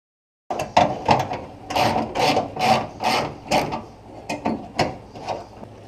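Close, steady ratcheting clicks in repeated strokes as a ratchet works the 7/16 bolts on the trunk latch of a 1977 Ford Thunderbird, clear and alone.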